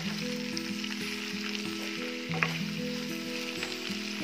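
Potatoes fry in a pan over a medium flame, a continuous close sizzle with a low steady hum running beneath it and a brief stirring clatter partway through.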